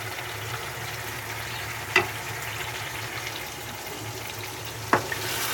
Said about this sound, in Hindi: सारे टमाटर जो हैं वो आलू में अच्छी तरह से मिक्स कर लेंगे चम्मच चला के 2 मिनट भूनने में